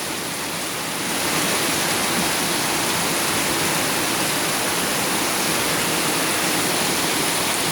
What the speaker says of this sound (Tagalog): napakalakas ng ulan